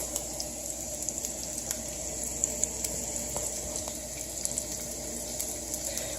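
Orange chicken frying in a pan, a quiet steady sizzle with faint crackles and pops running throughout.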